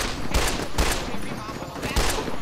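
Enemy gunfire in modded Fallout New Vegas: three sharp shots land at uneven intervals over a continuous rumble of combat noise.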